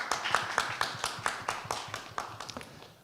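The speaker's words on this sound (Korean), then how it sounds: "따뜻한 박수 부탁드립니다." A small audience at a community results-sharing event claps in a brief, sparse burst of distinct hand claps that thins and fades over a few seconds, with no voices over it.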